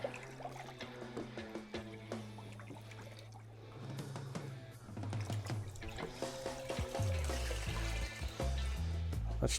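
A dirty car wash mitt being washed in a bucket fitted with a grit guard, with close water splashing, sloshing and dripping that grows busier and louder toward the end.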